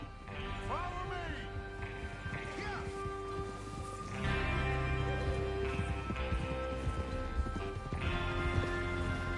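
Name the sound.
horses galloping, from the video game Red Dead Redemption 2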